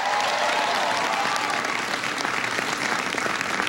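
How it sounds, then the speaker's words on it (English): Audience applause at a speech by President Obama on the Affordable Care Act in Boston, Massachusetts: steady, dense clapping from a large crowd, loud and continuous throughout, with no one speaking over it. "Give Bill a big round of applause."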